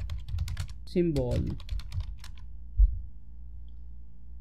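Keystrokes on a computer keyboard tapping out a short search, a quick run of light clicks mixed with a spoken voice, fairly close and moderate in level.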